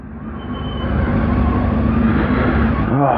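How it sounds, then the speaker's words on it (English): Buses and other traffic pass on a road with a loud, continuous engine rumble and roar that holds steady throughout, close by and with no speech. "Oh, fucking buses."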